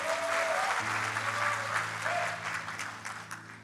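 A church congregation claps hands in praise, a dense, steady round of applause that carries on throughout while sustained keyboard or organ chords hold underneath.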